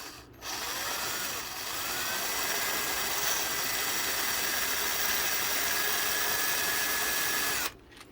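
A small power drill with a 2.3mm bit whirs steadily through balsa wood for about seven seconds, a close, even motor whine with faint pitch drifts, starting and stopping abruptly.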